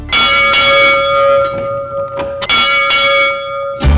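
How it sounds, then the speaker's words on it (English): A school bell on the bluffs of Quality Hill in Kansas City rings out loud and resonant, struck repeatedly in two rounds of clanging peals whose long metallic tones hum and linger between strikes. "This bell echoed over the bluffs at Quality Hill, summoning the young students to school."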